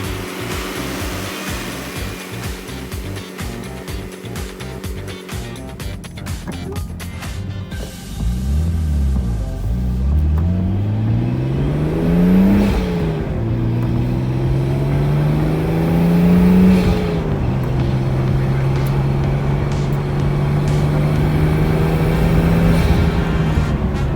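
Upgraded-engine Nissan R32 Skyline family sedan running and driving, its engine revving up and down in repeated sweeping rises, loud and close throughout with no talk.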